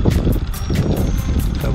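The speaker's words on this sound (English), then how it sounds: "It's windy." Cold wind blows outdoors, a loud continuous rushing buffet battering the microphone with rhythmic gusty swells throughout.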